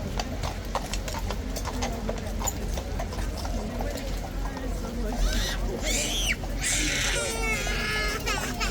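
Horse hooves clip-clop steadily on pavement outdoors in rain among tourists and guards, with a child crying and crowd chatter mixed in and brief whistling tones toward the end.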